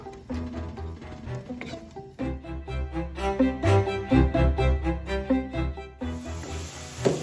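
Onions fry in oil in a pan for chicken karahi, giving a steady patter of close sizzling and crackling that swells mid-clip and turns to a brighter hiss near the end.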